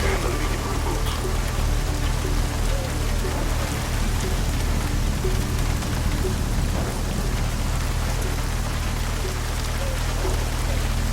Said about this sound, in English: Please get us out of the rain.